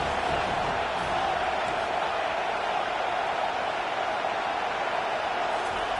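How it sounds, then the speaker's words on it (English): Steady roar of a college football stadium crowd cheering for the defense on third down, Utah versus Miami, a dense continuous wall of noise from many voices with no clear breaks. "Decibels rising as the crowd gets behind this defense on third down."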